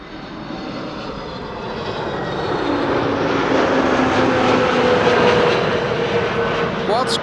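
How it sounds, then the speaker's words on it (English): Airbus A321neo airliner passing nearby on approach to land at Amsterdam Schiphol, main gear extending; a steady engine roar swells gradually and holds loud through the clip. "the A321neo passing by over here in the foreground. It's going to land"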